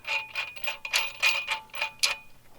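A socket wrench ratchets on a 19 mm nut on a Honda Grom, giving about eight crisp, evenly spaced clicks, close and clear, with no talk over them.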